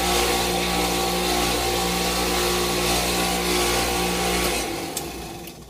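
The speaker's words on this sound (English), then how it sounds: "so when I turn the motor on" A small electric motor switches on and runs with a loud, steady whirring hum and tonal whine for several seconds before winding down at the end, with no voices.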